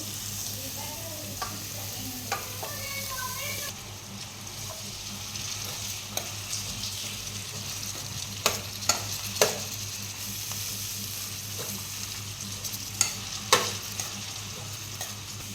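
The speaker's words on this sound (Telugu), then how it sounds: "ఇప్పుడైతే క్యాబేజ్ చేస్తున్నా. క్యాబేజ్ వేస్తుంది." Cabbage stir-fried in a home kitchen pan with turmeric, giving a soft steady sizzle broken by a few sharp spatula clinks and scrapes against the pan.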